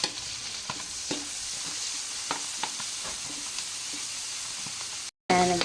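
Garlic, onion, ginger and flaked fish sautéing in oil, a steady sizzling hiss with soft stirring taps, briefly cut off near the end.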